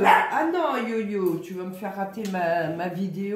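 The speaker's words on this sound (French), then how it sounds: "c'est un chien. Donc, elle aboie, ça lui fait du bien aussi." A dog barks and yips close by while someone talks over it, the barking mixed in and partly masked by her voice.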